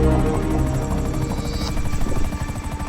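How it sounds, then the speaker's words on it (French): Helicopter from the video game GTA V, its rotor beating in a steady, loud chop with engine buzz throughout, arriving close by. "Un hélicoptère arrive."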